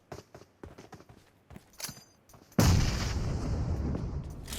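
A loud grenade blast in the mobile battle royale game PUBG Mobile bursts in midway, following a run of softer thumps and footstep-like taps, then rumbles on with a long, dense decay.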